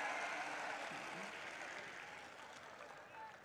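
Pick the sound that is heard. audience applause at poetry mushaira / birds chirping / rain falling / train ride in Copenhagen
audience applause at poetry mushaira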